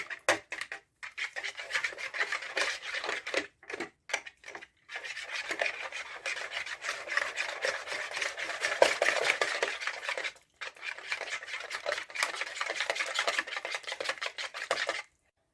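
A utensil mixes eggs and salt, scraping and whisking rhythmically against a bowl in a quiet room, a raspy stirring that pauses briefly a few times before continuing.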